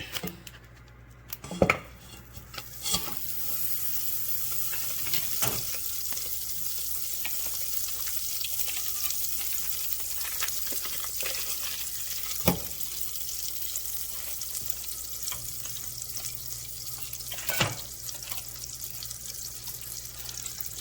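Six tablespoons of butter sizzle and crackle steadily in a pan as it browns for a brown buttered pecan cheesecake, with occasional sharp clicks of a utensil against the pan throughout.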